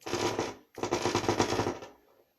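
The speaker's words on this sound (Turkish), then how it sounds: "gördüğünüz gibi başarıyla çalışıyor motorlarımız" Motors in a homemade massage device switch on briefly for a test, making two close, loud bursts of harsh, rattling buzz, the first short and the second longer, with a brief gap between them and no talk.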